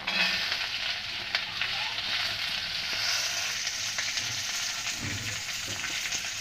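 Garlic frying in oil in a pan with roasted whole spices, a steady close sizzle with occasional stirring scrapes and clinks.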